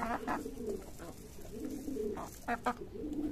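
Pigeons kept around a rural home coo repeatedly nearby, low throaty rolling calls in a steady rhythm with a few sharper bursts toward the end.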